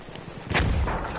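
A mortar round fires in Battlefield 1 gameplay, a single muffled distant thump with a low rumbling tail, fairly faint.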